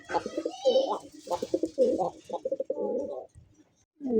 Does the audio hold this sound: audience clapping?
no